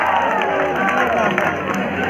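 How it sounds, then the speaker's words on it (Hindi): A crowd at a gym bodybuilding show cheers and applauds loudly and continuously, with whoops and shouts over dense clapping and a voice audible in the mix. "जोरदार तालियां हो जाए"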